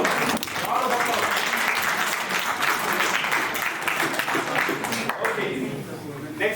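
A crowd at a college National Science Day quiz breaks into applause, a dense roomful of clapping that swells, holds steady, and tapers slightly toward the end, with faint voices underneath.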